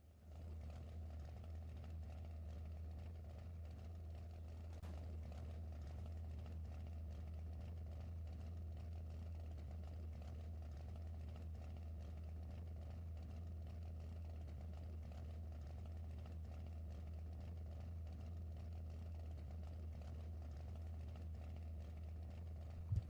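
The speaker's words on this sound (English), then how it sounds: "They have just been given the command to start their engines." Racing car engines at a NORA ARCA Series race at Bristol idle after starting before the race, a steady low rumble that holds evenly throughout, fairly quiet and distant, with no talk.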